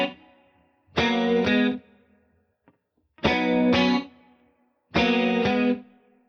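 Electric guitar runs through distortion and chorus effects, playing a chord progression at a faster tempo in three loud, evenly spaced bursts, each a pair of quick strums, with near silence between them.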